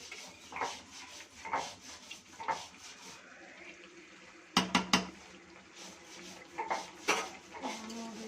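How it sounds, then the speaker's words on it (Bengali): Goat meat being stirred in a cooking pot, with repeated scraping and knocking of a spoon against the pot in uneven bursts, a cluster of sharper clanks midway, fairly quiet overall. "খাসির মাংসটা নাড়ছি।"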